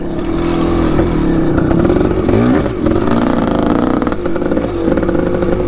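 An old kick-start motorcycle engine runs loud and close, a steady throbbing idle with rattly clatter and a brief throttle blip partway through, no talking.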